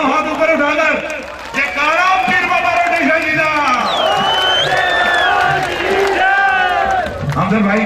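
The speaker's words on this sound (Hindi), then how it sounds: "जोरदार तालियां बजा के इजाजत दीजिए।" A live qawwali crowd at the 55th Urs at Dargah Peer Baba Rode Shah Ji claps and cheers in a dense, steady roar, with whoops and loud voices riding on top throughout.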